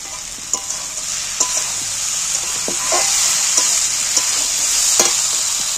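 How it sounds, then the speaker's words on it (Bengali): Fried potatoes sizzle and crackle in a pan of oily spice paste, a steady close frying hiss broken by sharp spits and pops, with no talking. "এবার আমি ভেজে রাখা আলুগুলো তুলে দিচ্ছি এর মধ্যে।"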